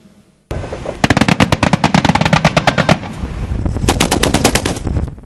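Heavy gunfire during fighting in Libya, rapid bursts of automatic weapon shots cracking loudly and close, with a short gap before a second intense volley.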